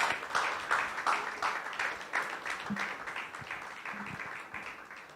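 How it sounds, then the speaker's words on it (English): An audience applauds for Renault, Taliant and Premium Motors, a faint, distant patter of clapping that fades slowly over a few seconds. "Let's give Renault, Taliant, and Premium Motors a round of applause."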